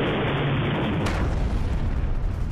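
A rocket attack strikes the US embassy in Baghdad, Iraq, heard as a loud, sustained roaring rumble with broadband noise that swells sharply about one second in and stays dense to the end.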